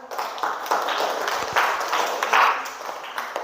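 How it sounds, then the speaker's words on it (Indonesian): Scattered clapping from a class of students after a school presentation, a loose broadband patter of claps with uneven bursts, fairly close and moderately loud, lasting a few seconds. "Kasih tepuk tangan."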